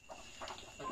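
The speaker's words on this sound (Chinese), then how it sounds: "这边呢是有十只蛋鸡" A flock of about ten laying hens in a village farmyard, clucking quietly in short scattered calls, faint and somewhat distant against a soft background hiss.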